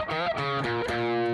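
Distorted electric guitar plays a fast lead phrase from a solo, notes bending and sliding in quick succession, loud and close.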